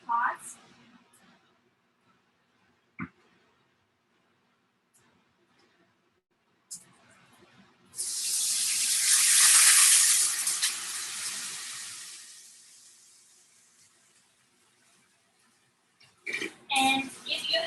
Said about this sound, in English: now we're gonna add some water, just about 1 cup of water in the pot